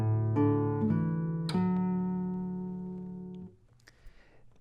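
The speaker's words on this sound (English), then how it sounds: "we have a bass line that comes in, and that sounds like this." Classical guitar plays a slow bass line from open D in Torroba's "Torija", a few sustained low notes plucked alone and clearly, ringing out and fading before the final note is damped.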